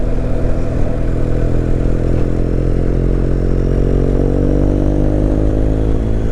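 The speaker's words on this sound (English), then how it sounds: "The sound of the exhaust echoing off them rock faces." A motorcycle engine drones loudly and continuously, its exhaust note rising slowly in pitch, echoing off rock faces in Scotland with a reverberant quality.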